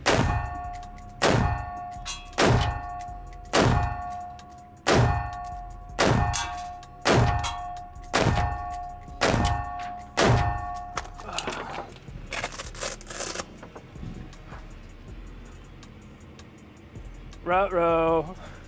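Bullets strike a steel armor plate during a penetration test, giving a steady series of about ten loud, ringing metallic clangs roughly a second apart, followed by a few scattered softer impacts and rattling.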